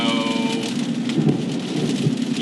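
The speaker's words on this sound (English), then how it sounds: "Big old storm." Heavy rain pours in a steady dense hiss while low thunder rumbles throughout a summer thunderstorm, loud and close, with no voices.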